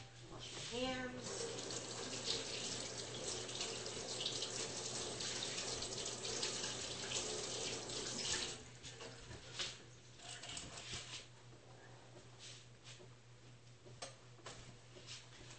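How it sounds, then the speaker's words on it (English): Hand washing under a running kitchen tap, with water streaming into the sink steadily for about eight seconds, then turning intermittent with small splashes and drips as the flow tapers off. "Just going to put my utensils away. Wash my hands."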